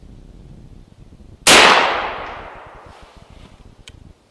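An AEA Element Max .58 caliber air rifle fires a single loud, sharp report up close, followed by a decaying ring of echo and a faint click near the end.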